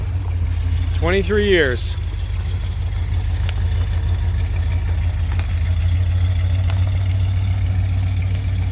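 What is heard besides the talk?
1978 Plymouth Trail Duster engine starting and idling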